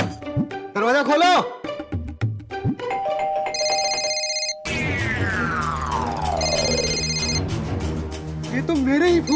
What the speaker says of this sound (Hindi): ये तो मेरे ही फोन की रिंगटोन है।